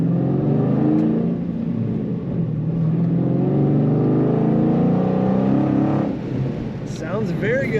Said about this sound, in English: Maybe you can hear the rumble a little better.